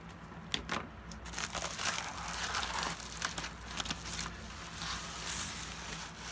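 Paper envelope package being ripped open, with repeated close crinkling, tearing and crunching bursts continuing steadily and fairly quietly over several seconds.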